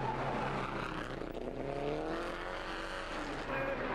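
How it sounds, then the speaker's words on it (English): Pre-1961 Grand Prix racing cars run their green flag lap at the 2004 Historic Grand Prix in Monaco, engines droning and rising in pitch as they pass, faint and distant under a steady background wash. "Competitors coming round on their green flag lap"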